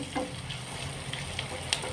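Masala-marinated mussels frying in a pan, with a quiet, continuous sizzle broken by a few small pops and crackles, no speech.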